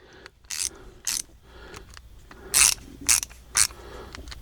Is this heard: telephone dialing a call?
no